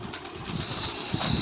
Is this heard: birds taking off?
yes